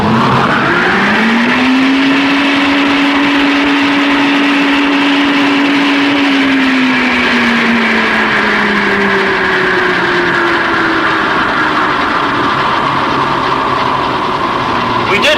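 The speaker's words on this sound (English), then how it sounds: "when we start the blower, we should expect the same speed as before" A wind tunnel blower spinning up to 210 miles per hour fills the clip with a steady, loud roaring whine, its tone rising then settling and holding for the full stretch.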